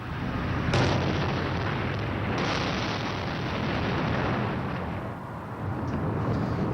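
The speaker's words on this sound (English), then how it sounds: "Huge explosions in the Iraqi capital were followed by giant plumes of smoke." Bombing in Baghdad during the Gulf War, heard as dense, continuous rumbling explosions with heavy booms near the start, rolling on without pause.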